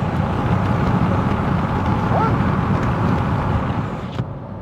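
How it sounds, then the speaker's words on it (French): Renault 5 E-Tech electric car with its window opened while driving, letting in a steady loud rush of road and wind noise that eases slightly near the end. "Tiens, regarde, je vais ouvrir la vitre."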